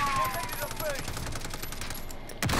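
Rapid automatic gunfire from a machine gun in Call of Duty: Modern Warfare, a dense, steady stream of shots running through the whole burst, with a sharp louder crack right at the end.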